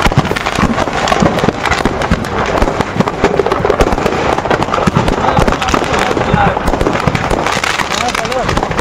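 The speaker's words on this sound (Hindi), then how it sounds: "धीरे धीरे ट्रक में लदे पटाखे जलने लगे।" Firecrackers loaded on a truck burning and going off, a dense continuous crackle of small rapid explosions at high volume throughout, with speech mixed in.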